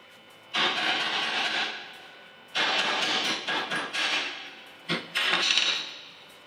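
Metal chipping hammer knocking slag off a fresh stick weld made with a Gysmi 160P inverter welder, heard as three bursts of bright, gritty scraping and clattering strikes separated by short pauses, close and fairly loud with no talk.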